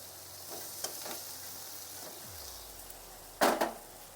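Potatoes for a Katla fish curry sizzling in a pan, a soft steady fry with a few scraping stirs and a sharper clatter of utensil against pan near the end, close but fairly quiet.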